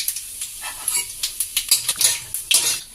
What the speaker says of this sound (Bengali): মধ্যে আমি কালো জিরে ফোড়ন দিয়ে নিলাম।